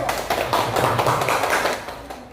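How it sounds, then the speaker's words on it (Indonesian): A classroom of students gives a group a short round of applause during a maths lesson, a dense burst of many hands clapping at once that fades over about two seconds. "Kita beri aplaus dulu untuk kelompok 1."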